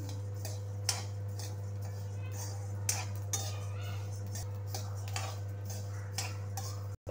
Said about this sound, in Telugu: ధనియాల వాసన వచ్చే వరకు వేయించుకోవాలి.